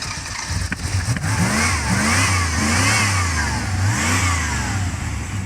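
A 1991 Pontiac Firebird with its muffler removed runs loud and close, its raw unmuffled engine note rising and falling in repeated revs over a steady rumbling idle.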